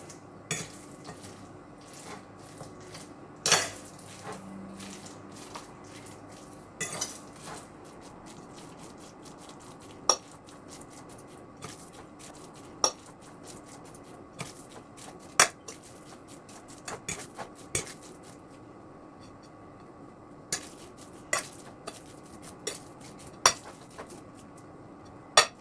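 Spiced pelmeni filling of paprika, garlic, chili and black pepper being mixed in a bowl, heard as scattered sharp clinks and taps of a utensil against the dish over a quiet background.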